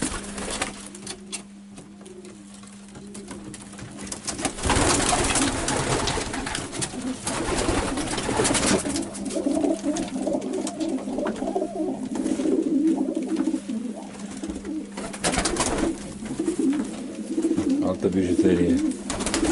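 Racing pigeons coo repeatedly in a Romanian pigeon loft, soft throaty calls layered close and steady throughout, with someone talking over them.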